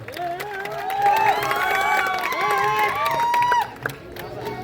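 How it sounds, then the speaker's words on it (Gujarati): A crowd at a Gujarati community welcome event applauds and cheers for an arriving guest, with whistles and shouts riding over continuous clapping for several seconds before it tapers off. "બધા એકવાર તાળીના ગડગડાથી વિક્રમભાઈને વધાવો"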